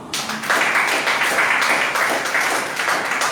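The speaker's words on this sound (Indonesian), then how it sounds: "Dan tepuk tangan bagi Tuhan" A congregation applauds continuously during a Sunday church service, a dense wash of clapping that holds steady for several seconds.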